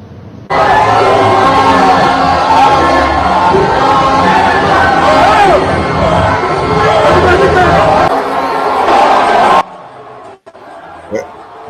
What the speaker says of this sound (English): There's a crowd there